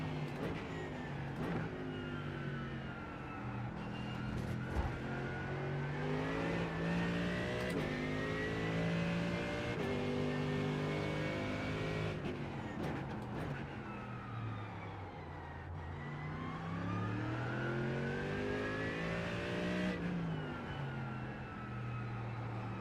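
A Porsche GT3 race car engine in the iRacing simulator revving up and down through the gears, its pitch climbing and dropping repeatedly as it brakes and accelerates through corners, loud and steady throughout.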